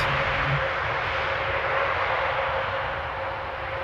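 A jet airliner landing in rain at Amsterdam Airport roars steadily and loudly, a broad engine rush with a faint whine that eases slightly toward the end, with no voices.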